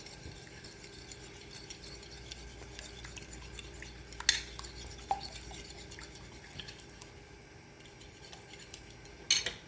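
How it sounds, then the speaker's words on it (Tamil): Eggs for a goat cheese omelette are beaten in a bowl, giving close, rapid scraping and clinking of utensil on dish, with a few sharper taps breaking through the quiet background. "இப்போ அந்த எக்ஸை நல்லா பீட் பண்ணிவிட்டு நான் ஊற்ற போகிறேன்"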